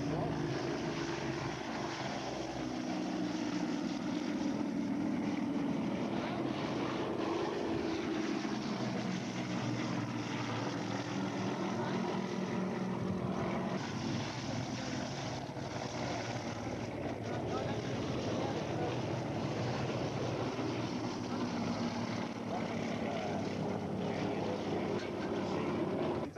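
A propeller aircraft drones steadily overhead during competition aerobatics at the Warbirds Over Wanaka airshow in 2004, heard as a continuous engine roar at moderate distance with a public-address announcer talking over it.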